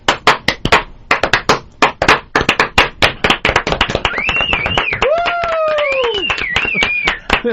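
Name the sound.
slow clap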